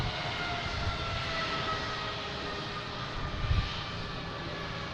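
A jet airliner taxis at Boston Logan International Airport, its engines making a steady, broad roar that holds evenly throughout at moderate distance, with no voices.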